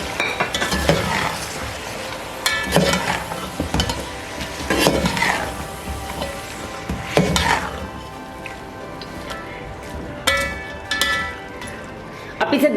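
Cubed capsicum, seeded and washed, tipped into a pan of frying mutton masala and stirred, with repeated scraping and clinking of a spoon against the pot over a steady sizzle.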